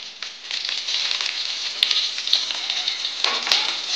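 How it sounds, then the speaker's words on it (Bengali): Curry leaves and green chilli dropped into hot oil for a vegetarian curry paneer, a steady bright crackling sizzle with scattered pops, close and fairly loud with no talking. "কারি পাতাগুলো দিয়ে দিলাম। কাঁচা লঙ্কাটা দিয়ে দিলাম।"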